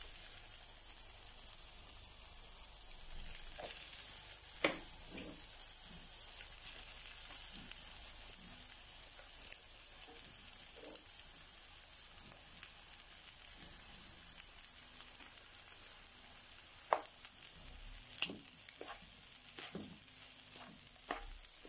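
Rice frying with chicken in a pan gives a faint, continuous sizzle with scattered soft stirring clicks and occasional louder taps, no voices.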